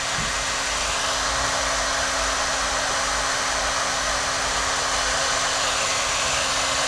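Electric motor of a Yokomo YZ-2 DTM 3.1 RC buggy running under load, a loud continuous high whine with a steady hiss that holds unchanged from start to finish.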